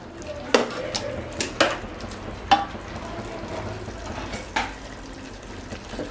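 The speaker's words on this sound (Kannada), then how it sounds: "ಇವಾಗ ಟೊಮ್ಯಾಟೊ ಹಾಕ್ತಾ ಇದ್ದೀನಿ." Chopped tomatoes go into sizzling masala in a pan for nati-style biryani; a low frying hiss runs throughout, broken by a few sharp spoon-on-pan clinks and stirring scrapes, with no talk.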